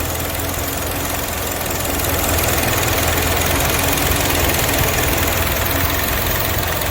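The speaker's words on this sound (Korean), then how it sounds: "여러분이 보시기에 이 자동차의 엔진 소음을 잠깐 들어보시기 바랍니다." A car engine idles steadily, a loud continuous rumble with a dense mechanical drone and faint irregular pops from the exhaust.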